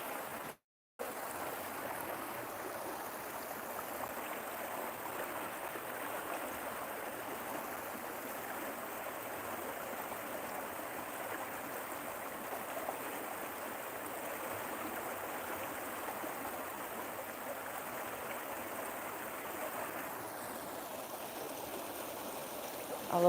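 Steady rushing of a stream flowing around someone walking against the water, a continuous broadband wash that stays constant and fairly close throughout, with no voices.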